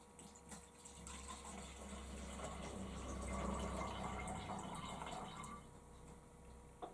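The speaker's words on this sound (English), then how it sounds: "we'll just pour a little bit of water into the bottom of one of the bottles" Water poured into the bottom of a glass bottle makes a steady trickling, filling sound that holds for several seconds and fades out near the end, heard close and alone.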